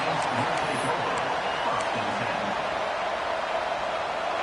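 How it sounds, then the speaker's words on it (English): A football stadium crowd at a Texas versus Ole Miss game roars in a steady, dense wash of cheering that fills the whole stretch, with a commentator talking over it. "This crowd ready to make its presence known."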